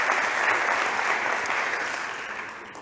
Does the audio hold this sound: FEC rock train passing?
no